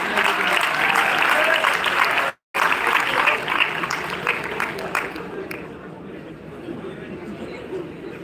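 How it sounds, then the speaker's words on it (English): Loud, dense applause from an audience at a university lecture series event at Chitkara University, with a brief cut midway, then tapering slowly with crowd chatter mixed in. "a huge round of applause for him"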